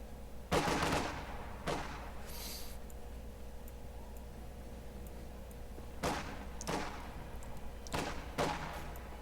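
A German MG42 machine gun in Company of Heroes 2 firing from ambush camouflage, heard as a handful of short sharp bursts spaced apart over a steady low battlefield rumble, fairly faint and distant, with no talking.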